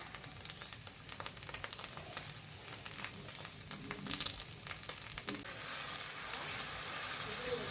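Ghavane rice batter sizzling on an oiled pan, a soft, steady frying hiss with crackly pops and occasional scraping, fairly faint and close.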